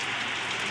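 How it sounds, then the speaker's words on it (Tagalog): Heavy rain falls steadily as a dense, even hiss, a brief continuous wash with no talk. "Ganyan po yung ulan."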